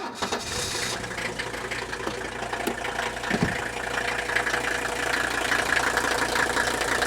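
A 1983 Mercedes 300D diesel sedan idles steadily, its rattling injector clatter and low engine drone continuous and close throughout.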